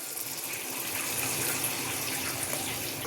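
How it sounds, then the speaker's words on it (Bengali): Hot water poured into a cooking pot holding a fried tomato and chilli base for a fish curry, a loud, steady gushing splash lasting a few seconds, close by and without talk. "আমি গরম জল দিলাম।"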